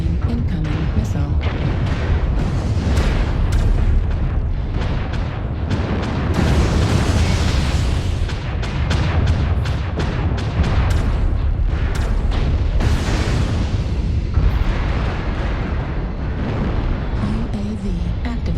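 Missile explosions in a video game, heavy continuous booms and blasts rolling loudly through the whole stretch, with no voices over them.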